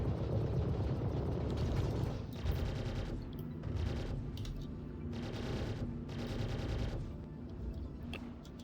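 Gunfire in the Star Citizen video game comes as several bursts of rapid automatic fire over a loud background rumble, separated by short gaps and fairly close.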